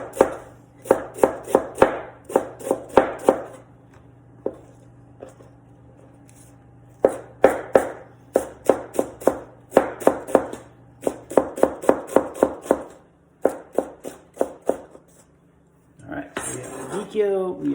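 A knife chops through radicchio on a cutting board in rapid bursts of crisp, close strokes, pausing between runs. A faint voice murmurs in places.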